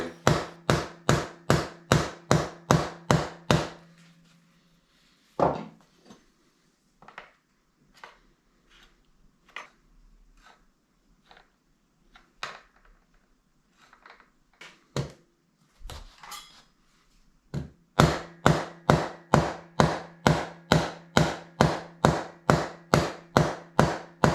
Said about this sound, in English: all I'm actually doing is knocking the fret back in to match the radius of the fretboard